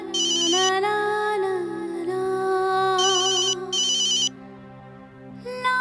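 A mobile phone ringtone plays loudly in a Hindi TV drama scene, a melodic electronic tune with repeating bright trilling bursts, close and unaccompanied by talk.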